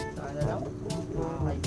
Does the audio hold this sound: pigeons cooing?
yes